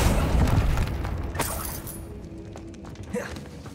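A Confringo spell bursts in a catacomb in Hogwarts Legacy: a loud booming blast with shattering debris up front, then a fading rumble and a few smaller pops and crackles.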